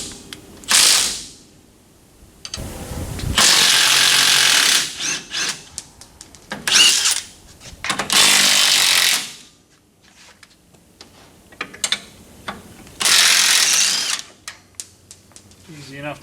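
A ratchet removes the three bolts holding the brake backing plate on a 1970 LeMans during a front disc brake conversion, firing in several loud, whirring bursts separated by short pauses and clanks.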